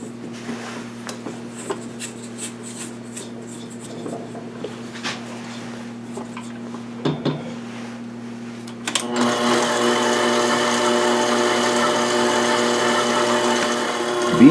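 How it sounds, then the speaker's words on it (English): An electric mixer beats popover batter in a bowl at medium speed. Quiet clinks and scrapes come first, then a steady, loud motor whir runs for several seconds, close by, with no talking. "add the remaining milk, and this gets beat for 2 minutes."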